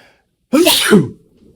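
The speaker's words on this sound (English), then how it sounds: "Oh, I gotta sneeze." A single loud, close sneeze, abrupt and breathy, preceded and followed by near silence.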